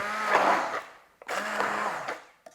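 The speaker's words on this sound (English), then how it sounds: "we're gonna use a stick blender and then slowly process everything" Stick blender pureeing a vegetable soup of milk and two vegetables, running in two close, loud whirring bursts, each rising and settling as it churns, separated by a short pause.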